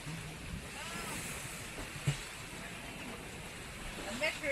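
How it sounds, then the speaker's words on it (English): Ocean waves wash around a sailing boat on a long nonstop offshore passage as the wind eases after a rough night, a steady broadband surge with wind noise throughout and a faint voice in the background. "wind came down and the waves were now much more comfortable in size and shape"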